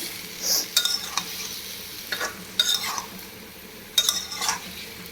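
Beans and eggplant stirred into pre-fried potatoes in a pan: soft steady frying hiss broken by several sharp spatula scrapes and clinks against the pan, close and moderately loud, no voices.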